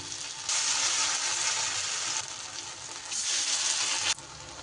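Loud, hissing sizzle of spinach-recipe pieces frying in a pan, surging twice as pieces are added, then settling to a quieter crackle.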